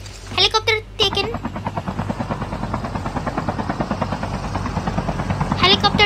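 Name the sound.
helicopter in the video game Call of Duty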